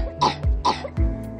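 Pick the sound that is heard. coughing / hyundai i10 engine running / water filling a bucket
coughing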